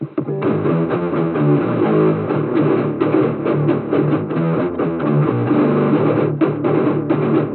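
A heavily distorted, low-pitched guitar riff plays continuously, thick and buzzy with a muffled, band-limited tone.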